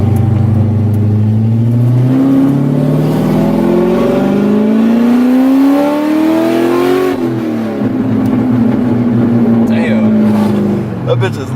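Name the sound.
loud C6 Corvette LS3 engine revving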